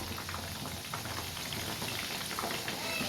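Chicken pieces with potato fry in hot oil, producing a dense, even bubbling hiss with fine crackles that holds steady and close for the whole stretch, with no voices.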